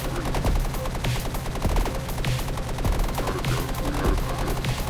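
Rapid assault rifle fire in the Blaster Cop shooter game, loud and close, with dense overlapping bursts of shots continuing almost without pause.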